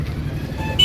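Road traffic rumbles close by, a brief, loud, low engine drone from passing vehicles that swells slightly at the end.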